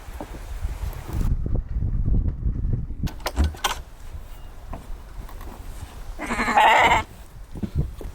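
A mother sheep on an off-grid homestead bleats loudly and close for about a second, set among wind and low rustling handling noise.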